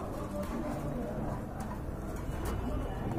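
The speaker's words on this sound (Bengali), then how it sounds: "বিগ সাইজের এক জোড়া বারহুমা কবুতর আছে" A pair of large Barhuma pigeons coo softly amid constant background chatter and bustle, their calls low and partly buried under the surrounding noise.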